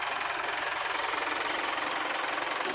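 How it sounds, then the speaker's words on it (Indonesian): A vehicle engine idles up close at an auction in Pekanbaru, giving a constant, dense mechanical hum with a faint ticking texture and no talking. "Kalau dari mesin ya, kedengar suara mesin."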